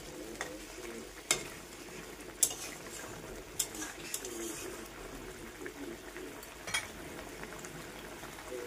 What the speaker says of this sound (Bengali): এখন দেবো একটু কাঁচা সর্ষের তেল, সামান্য পরিমাণ। একটু নাড়া দিয়ে নেব, মিশিয়ে নেব।